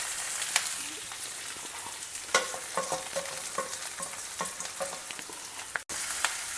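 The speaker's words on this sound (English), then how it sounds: "When the dals are brown, add in the potatoes along with all the masalas in it." Potatoes coated in masalas sizzle and fry in a pan while being stirred and tossed, with scraping and clattering bursts over a steady hiss, fairly close and moderately loud.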